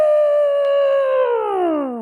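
A single long, loud vocal trumpet sound from a child imitating an elephant, a sustained tone that slides downward toward the end.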